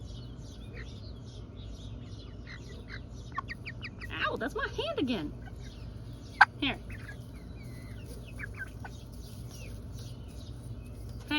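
Backyard chickens cluck and chatter in a garden, several short bird calls scattered over a quiet background while a person speaks softly nearby.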